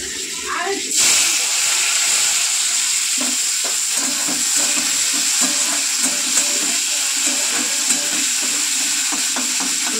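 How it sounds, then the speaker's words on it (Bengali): Thinly sliced bitter gourd fries in hot oil in a pan, giving a loud, steady sizzle with small scraping and stirring clicks on top. "উচ্ছেটা কড়া করে ভেজে নেবো, বেশ দারুণ লাগবে কিন্তু খেতে।"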